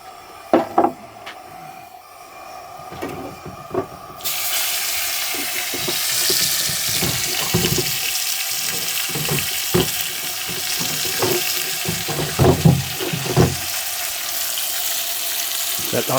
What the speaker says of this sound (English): Let that sizzle away